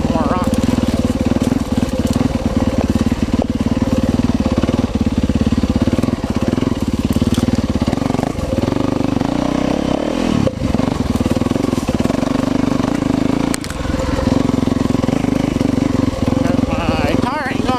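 An enduro dirt bike engine runs continuously while the bike is ridden over rocky ground, loud and close with throttle swells and clattering impacts, and a rider talks over it.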